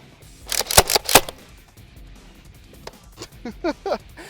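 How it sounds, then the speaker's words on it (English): A Nerf Mega XL blaster fires in slam fire: two close, sharp shots stand out in the first half, followed by a few lighter clicks and mechanical snaps, with no talking. "first shot and then second shot will be slam fire"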